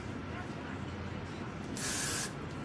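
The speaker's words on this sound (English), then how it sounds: "Let's spray it like that" A short burst of Got To Be aerosol hair spray, about half a second of bright hiss, over a low background hum.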